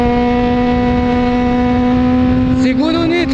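A Honda CBR600RR motorcycle engine in a video game holds a loud, steady high-pitched drone near, then the pitch bends and wavers near the end as the nitro boost kicks in and the revs shift.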